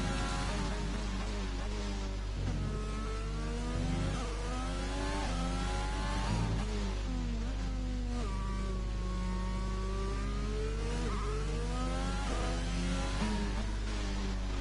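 Onboard engine of Leclerc's Formula race car in a racing video game at Hungary, a loud continuous high-revving whine that rises and falls with gear changes, heard alone throughout.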